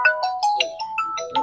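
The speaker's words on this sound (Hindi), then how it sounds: "पटना से फोन है।" A telephone rings for an incoming call with an electronic ringtone, a quick melodic run of bright, bouncing notes that plays loud and clear with no one talking over it.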